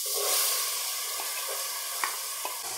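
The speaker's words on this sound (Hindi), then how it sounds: "प्याज को हम हल्का सा फ्राई करेंगे।" Chopped onions with ginger-garlic paste frying lightly in a pan, giving a steady close sizzle and a few soft clicks of stirring.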